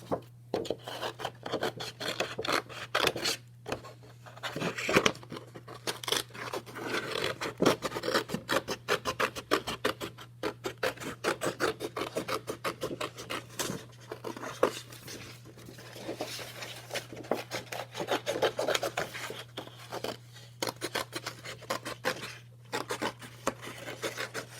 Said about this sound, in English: Next step requires a pair of scissors. So we're going to cut along the lines that we drew.